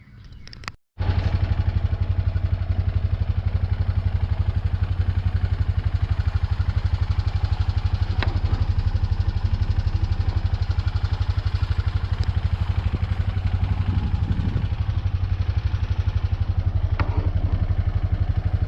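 Polaris Pioneer 500 off-road vehicle engine catching after a brief crank, then idling loud and close with a steady rattly throb for the remainder.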